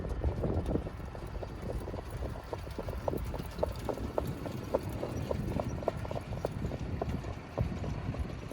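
Harness racehorses trotting at Vernon Downs racetrack, a steady run of hoof clip-clops with a faint whinny, heard at moderate distance over wind and crowd ambience.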